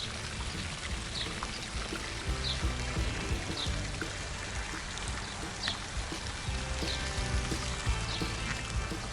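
Water flowing steadily along a restored stream at a countryside campground, with a continuous broadband rush and occasional brighter splashes and drips throughout.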